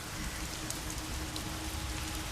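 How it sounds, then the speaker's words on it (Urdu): Heavy torrential rain pours down outside at night in a dense, unbroken hiss that stays loud and even throughout, with no voices. "موسلا دھار بارش کی وجہ سے باہر کچھ نظر نہیں آ رہا تھا۔"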